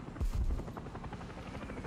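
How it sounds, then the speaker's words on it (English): Helicopter flying overhead, a fairly faint rhythmic rotor chop pulsing steadily behind a brief louder thump near the start. "Did I hear another chopper?"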